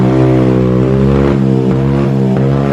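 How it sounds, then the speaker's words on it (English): A vehicle engine with a modified exhaust idles loudly and close by in the Philippines, a deep, steady rumbling drone with a slight waver. "Definitely a modified exhaust."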